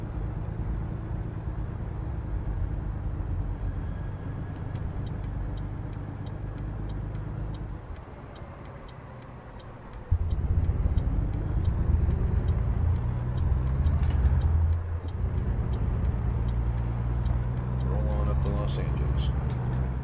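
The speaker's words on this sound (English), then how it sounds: "This is the Stage 1 Peterbilt. There is no accoutrements. Stock from the dealer." A stock Stage 1 Peterbilt truck engine in American Truck Simulator drones low and steady throughout, dipping briefly and then rising back to a fuller rumble, with someone talking over it and light ticking clicks.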